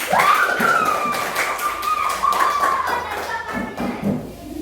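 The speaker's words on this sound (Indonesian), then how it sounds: "Oke, tepuk tangan semuanya." A classroom of students clapping hands together during a microteaching science lesson. The claps are loud, close and rhythmic, with a drawn-out tone over the top in the first few seconds.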